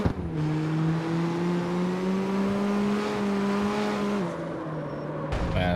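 A car in CarX Street cruising around a block, its engine holding a steady droning tone that rises slightly before dropping as the driver eases off, then a brief surge near the end.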